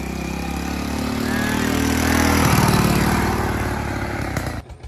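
Motorcycle riding along roads through rain-soaked farm fields, a loud, continuous engine drone and wind rush close to the rider, fading near the end.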